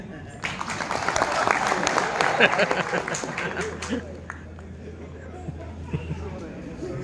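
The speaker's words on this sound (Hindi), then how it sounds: "जितने सो गए एक बार ताली बजाइए।" An audience in a hotel conference hall applauds, a dense patter of many hands clapping that swells early and then thins out beneath a voice speaking over the crowd.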